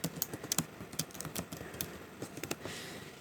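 A password is typed on a computer keyboard as a quick run of light, close key clicks with irregular spacing. It sounds faint and there is no talking.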